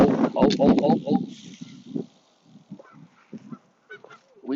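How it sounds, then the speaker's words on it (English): A flock of geese honks repeatedly from the ground near a bike path outside Salt Lake City, loud honks in the opening seconds then scattered fainter calls, with someone talking. "We got some geese."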